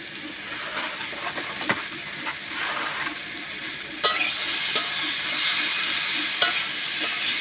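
Vegetable stalks fry and are stirred in a pan, with a continuous sizzle punctuated by sharp scraping clicks of the utensil against the pan at irregular intervals, fairly close and with no voices.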